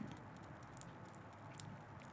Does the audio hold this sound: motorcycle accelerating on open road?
no